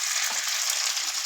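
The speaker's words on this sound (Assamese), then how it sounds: "এতিয়া এপিচ এপিচকৈ তেলত দি যাব লাগিব" Moong dal fritters sizzle in hot refined oil, a bright, steady crackling hiss with faint pops, close and continuous, no talk.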